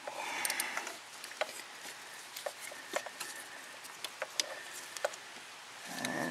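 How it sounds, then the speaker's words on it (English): Rain patters on and around a 2007 Dodge Magnum R/T with a 5.7L Hemi V8 during outdoor work, scattered drops ticking and tapping irregularly over a soft steady wash, fairly close and quiet throughout. "It just started raining."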